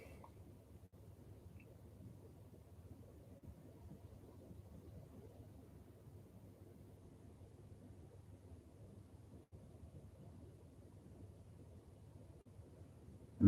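An Air China airliner takes off at Heathrow: a low, steady, distant rumble that holds evenly for about thirteen seconds, with no voices.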